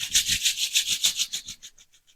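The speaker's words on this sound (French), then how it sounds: "On frotte les mains." Brisk rubbing of palms together during a morning gym warm-up, about eight rapid swishing strokes close up that fade out toward the end.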